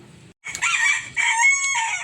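Imported bantam chickens on a small farm: a close, loud crow with throaty clucks around it, in two bursts after a short pause.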